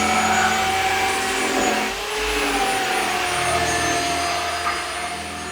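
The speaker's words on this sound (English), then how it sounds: "So the 80 grit's the winner, good abrasion, without me having to press down the sander very much." A power sander with 80-grit paper abrades untreated cedar wood outdoors, producing a loud, continuous whirring drone that shifts slightly in pitch as the pressure changes, with no speech.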